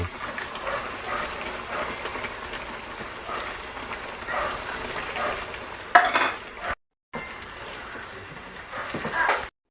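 Fried shrimp and other ingredients being pushed down and stirred in a pan for ginataang halo-halong gulay, a soft steady sizzle with scraping, a louder clatter near the end, then a brief gap before the stirring resumes.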